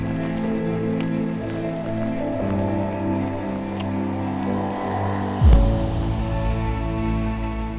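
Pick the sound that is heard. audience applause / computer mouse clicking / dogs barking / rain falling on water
rain falling on water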